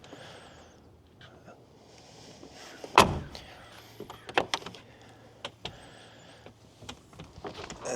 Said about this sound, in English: Has a really nice thud when you close and open the doors.